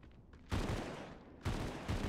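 Video game gunfire in three sharp bursts, each a loud crack with a short tail, separated by brief gaps.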